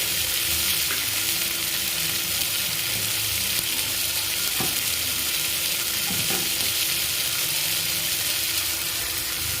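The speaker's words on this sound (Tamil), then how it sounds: "தக்காளி நல்லா வணங்கட்டும்." Tomatoes frying with salt in a pan for a potato tomato kurma, a loud continuous sizzle with a few faint stirring clicks, no talk.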